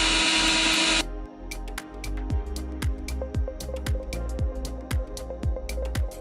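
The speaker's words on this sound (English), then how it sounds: "I need to drill a hole for the power cord." Power drill boring a hole through a boat panel for a power cord; a loud burst of whining motor for about a second, then a rhythmic series of sharp clicks and knocks as the bit is worked.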